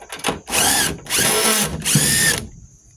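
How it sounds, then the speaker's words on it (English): Power tool spinning bolts off a pump on a cooling unit for X-ray tube assemblies, three close, loud whirring bursts of under a second each with brief pauses between. "So let's get these bolts off for the pump."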